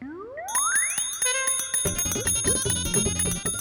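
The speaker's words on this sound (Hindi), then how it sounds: "आप ही अभी घंटी मत बजाइए" A hand bell rings in a bright, rapid sequence of metallic clangs with long shimmering overtones, following a rising tone at the start, loud and close with no talking.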